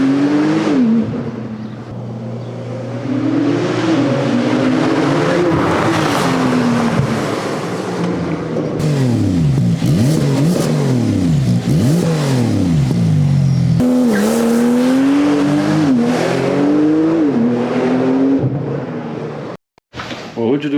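A Gintani twin-turbo Lamborghini SV doing a launch-control start, its engine revving hard and rising through repeated gear-change sweeps, loud and close for nearly the full stretch, with some talk mixed in and a brief dropout near the end.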